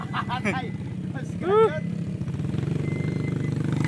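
A motorcycle engine drones steadily at a haulers' gathering in Davao Oriental, a continuous buzzing rumble that grows steadier after a moment, while people shout excitedly over it.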